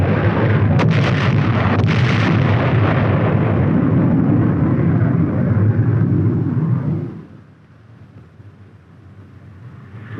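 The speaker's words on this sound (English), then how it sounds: "the first flight drops general-purpose bombs" General-purpose bombs dropped by a flight of aircraft explode in a continuous, loud, thundering roar lasting about seven seconds before falling away to a low rumble, with the period sound of a 1950s US Army film.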